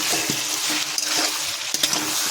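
Pointed gourd frying with spices in a hot pan, a steady close sizzle broken by a few clattering stirs of a spatula against the pan, with no voices.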